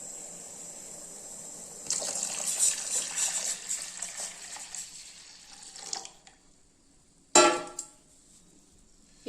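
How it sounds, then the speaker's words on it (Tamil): Water is poured into a cooking pot while making Thiruvathirai kali, a steady close stream for several seconds, then a short quiet gap and a second brief splash. "இப்போ நம்ம இந்த தண்ணியை ஊற்றிக்கலாம் இதுலேயே."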